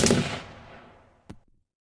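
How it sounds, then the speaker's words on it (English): A single loud gunshot cracks out close by, its blast decaying into a long reverberant tail with a faint echo tap near the end. "A loud gunshot echoed through the air."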